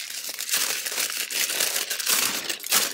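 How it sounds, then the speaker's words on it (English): Parchment paper being laid over heat-transfer vinyl ahead of a Cricut EasyPress Mini heat press, giving a steady, close crinkling and rustling of the sheet that lasts throughout, with no speech. "Put my piece of parchment over it."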